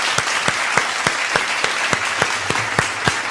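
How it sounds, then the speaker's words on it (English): Applause celebrates a podcast reaching its 220th episode: a sparse, regular series of about a dozen sharp claps, evenly spaced like a single pair of hands or a sound effect, close and alone without talk. "A round of applause."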